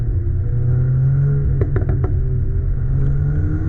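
A 2021 VW Golf R MK8 engine running with a steady low rumble, broken around the middle by three or four quick pops from the exhaust.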